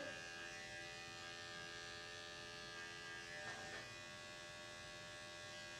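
Electric clippers trim the sanitary area of a doodle dog, giving a faint, steady buzzing hum that holds without a break, with a slight change in pitch about midway through.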